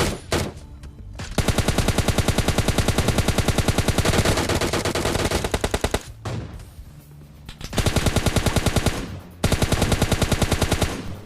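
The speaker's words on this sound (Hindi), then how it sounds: "सामने से MK14 AWM चल रही है" Rapid bursts of MK14 and AWM gunfire from PUBG Mobile Lite, loud and close, with dense repeated shots in several long volleys separated by brief pauses.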